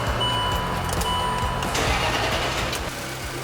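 A Land Rover Discovery 3 4.4-litre V8 petrol engine with over 200,000 km, freshly reassembled after a knocking fault, runs steadily and loudly up close with a continuous low throb and no talking.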